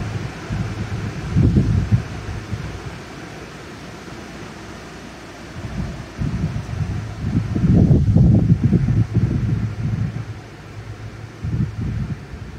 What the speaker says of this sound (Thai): ลมแรงมากค่ะแม่บ้านกลัว